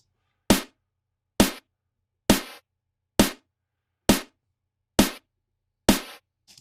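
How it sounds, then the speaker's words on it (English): Seven sharp layered electronic snare hits from Logic Pro 9 sound one after another at an even pace, each crisp and bright with a short decay, alone against silence. "that's the snare sound"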